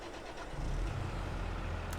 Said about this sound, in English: just let a tractor get started